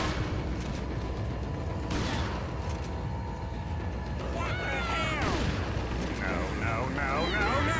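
Shotgun blasts in Resident Evil 4 during a fight with chainsaw-wielding enemies, several loud booming shots spaced a second or so apart, mixed with game noise and players talking over the action.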